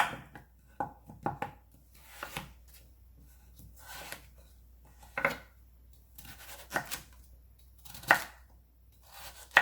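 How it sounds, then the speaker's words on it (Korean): Potato and carrot being cut on a cutting board: a quiet, uneven series of sharp knife knocks, some in quick pairs, with short pauses between strokes and no talking. "감자하고 당근하고 야채 손질합니다."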